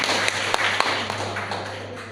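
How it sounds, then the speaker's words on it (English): Seminar audience applauding a student speaker, a brief, dense burst of clapping with a few sharper taps, fairly loud over a steady electrical hum. "Please give applause for her."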